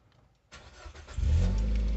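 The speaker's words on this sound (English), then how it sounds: "So we switch it on, switch the engine back on," A Nissan Qashqai 1.6 petrol engine cranks and catches, then settles into a loud, steady rumble up close.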